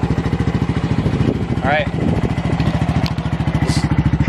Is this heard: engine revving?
yes